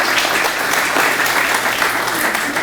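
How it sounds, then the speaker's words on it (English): A big crowd applauds funders at a community program event, dense and loud clapping that holds steady throughout. "So let's give our funders a huge round of applause."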